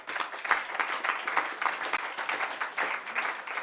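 Applause from the audience at a French political party meeting, a fairly quiet, uneven burst of clapping with irregular peaks lasting a few seconds, no voices over it.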